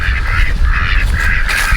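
Flock of ducks outside in the snow after escaping their fence, giving loud, close, repeated honking quacks in overlapping bursts with only brief gaps.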